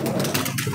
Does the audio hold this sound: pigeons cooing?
yes